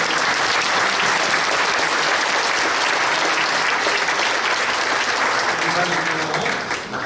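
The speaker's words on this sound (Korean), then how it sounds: "저희가 담임했던 목사님 잠깐만 일어나시면 박수하도록 하겠습니다." A church congregation at a 70th anniversary thanksgiving service in Masan applauds its pastors, a dense, sustained round of clapping from many hands that fills the room evenly before tapering slightly at the end.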